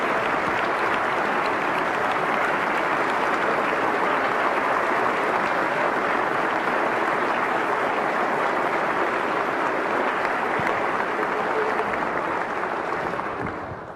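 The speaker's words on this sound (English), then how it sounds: "Please give them a big round of applause because they've worked really hard." A large audience at a West Virginia State of the State address applauds steadily for the full stretch, a dense, even wash of clapping that tapers slightly at the very end.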